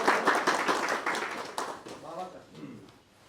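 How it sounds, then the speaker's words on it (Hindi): Audience hands clapping together at a Brahma Kumaris spiritual gathering, a dense burst of applause that starts strong, then thins out and fades toward the end, with voices mixed in. "ताली बजा भाई, सबका है।"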